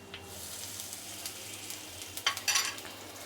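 Dried red chilli, bay leaf and asafoetida crackle faintly in hot oil alongside cloves and cardamom, and the sizzle swells into louder bursts near the end.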